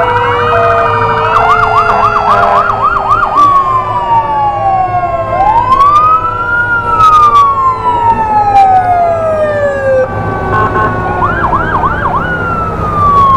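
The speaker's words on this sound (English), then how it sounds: "Although people are enjoying the sirens, when you hear them under normal circumstances, it gives you the shivers." Fire engine sirens wail through a parade, rising and falling in long sweeps with faster yelps, loud and close throughout against steady crowd and engine rumble.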